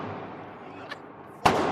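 At an outdoor gun range, a single sharp gunshot cracks near the end after a faint earlier pop, standing out loudly over steady background noise.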